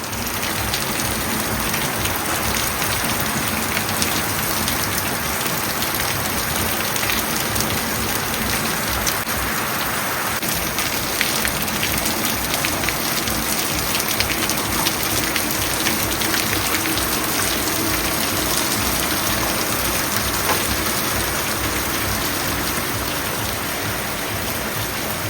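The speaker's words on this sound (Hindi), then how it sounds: "ये देखिए बारिश लगातार हो रही है" Steady, continuous rain falling outdoors during a downpour, an unbroken dense hiss of drops spattering on surfaces, fairly close and even in loudness throughout, with no talking.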